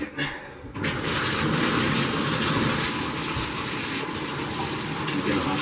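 A bathtub tap gushes water into the tank of a Hoover Dual Power Max carpet cleaner, opening abruptly after a brief pause into a loud, steady, close rush of running, filling water.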